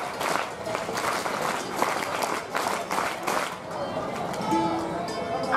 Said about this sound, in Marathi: आपल्या सर्वांकडून एक अभिनंदन टाळी सर्व मान्यवरांसाठी